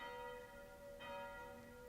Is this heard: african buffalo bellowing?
no